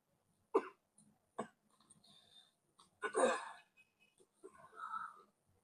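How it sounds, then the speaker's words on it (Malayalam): Several sharp coughs from a woman in a drama scene, close and fairly loud, come in short bursts separated by quiet pauses, with a longer rough hacking cough in the middle and a low voice murmuring briefly near the end. "ഈ ചുമക്ക് ഡോക്ടർ ഒന്ന് കാണിച്ചൂടെ?"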